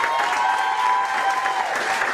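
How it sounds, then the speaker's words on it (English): Steady applause from a comedy club audience at a showcase, a dense wash of clapping holding at an even level for a couple of seconds with no voices on top. "So let's give a little round of applause."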